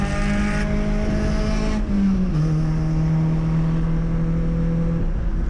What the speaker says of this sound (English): So cars rolling around here.